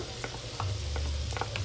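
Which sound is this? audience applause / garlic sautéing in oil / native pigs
garlic sautéing in oil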